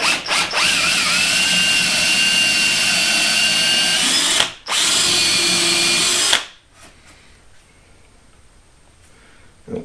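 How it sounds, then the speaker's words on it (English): A power drill with a 13/64 bit drilling pilot holes for lag screws whines loudly at high speed, pauses for a moment, runs again, then cuts off, leaving near silence with a faint click at the end. "I will have to drill a pilot hole in here"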